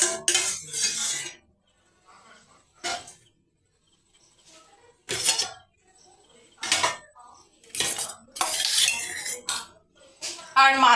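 Rice, mashed potato and fish are served onto plates with metal utensils in a home kitchen, giving close clinks, scrapes and clatters of spoons on dishes in short bursts separated by quiet pauses.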